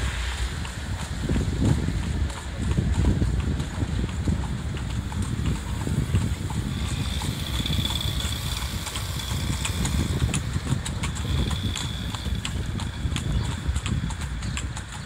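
Hooves of a horse pulling a cart clip-clop along a Marrakech street, a steady rhythmic clatter under gusting wind noise and a faint engine drone, with no one speaking.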